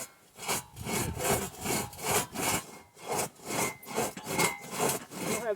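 A handsaw works steadily through a log, each push and pull stroke rasping loudly in an even, repeating rhythm of about a dozen strokes, close by with no talk.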